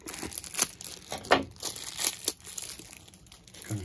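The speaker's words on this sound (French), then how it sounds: "Je peux les déballer." Plastic packaging for an Akaso V50x action camera mount crinkles and tears as it is unwrapped, a close, quiet series of irregular rustles and crackles.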